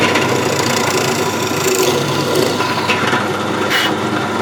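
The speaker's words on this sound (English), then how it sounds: "Now I'm going to just do a 6mm hole through the middle." A drill boring a 6mm hole through the middle of a small wooden toy wheel held in locking grips, a steady close grinding whir with rough rasping texture throughout.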